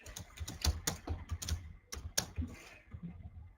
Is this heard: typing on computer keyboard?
yes